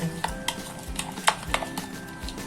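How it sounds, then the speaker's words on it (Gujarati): A spoon stirs and scrapes potato curry with yogurt (dahi batata shaak) in a metal pan, giving several distinct clinks and scrapes at an uneven rhythm over a soft background, close and fairly quiet, with no talking. "આપણે બધું મિક્સ કરી દેવાનું"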